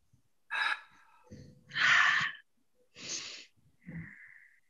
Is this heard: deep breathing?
yes